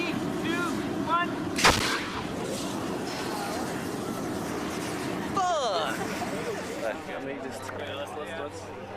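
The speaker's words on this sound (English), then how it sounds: "we have a propane cannon explosion going off in this area" A single loud propane cannon explosion bursts out early during a film-set fire test, followed by rumbling and voices talking over the lingering noise.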